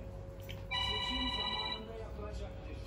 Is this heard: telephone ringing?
yes